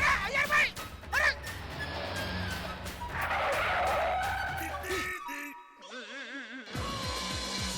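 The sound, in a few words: car arriving with skidding tyres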